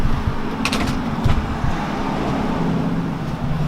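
A 2008 Chevrolet Silverado pickup with Pacesetter long-tube headers, a Y-pipe and straight-pipe exhaust rumbles steadily at close range, a deep continuous drone with a few brief sharper bursts.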